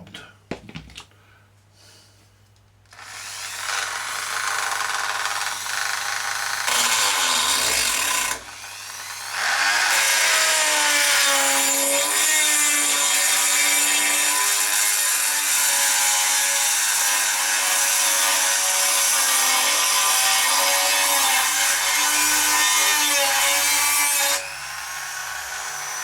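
An old, worn-out hand saw cutting wood, a loud steady rasping that fills most of the stretch after a few early knocks and a short pause, then stops near the end.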